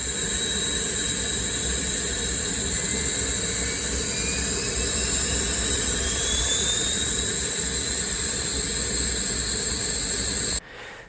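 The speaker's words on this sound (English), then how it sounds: "we start the number 1 engine and the temperature and RPMs come up." A U.S. Air Force trainer jet starts its number one engine while the number two engine already idles, a loud steady turbine roar with a slowly rising whine that cuts off abruptly at the end.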